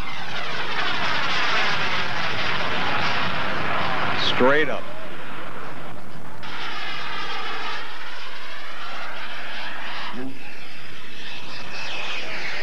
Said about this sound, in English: Listen to that engine. Isn't that just incredible?